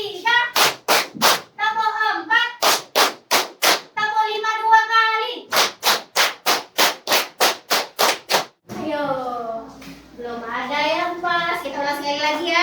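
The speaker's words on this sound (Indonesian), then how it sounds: "Tepuk 1, tepuk 2, tepuk 3, tepuk 4, tepuk 5 2 kali." A school class claps a rhythmic counted 'tepuk semangat' chant in a classroom, with sharp, evenly spaced clap bursts alternating with a voice counting aloud and children chanting along, loud and close.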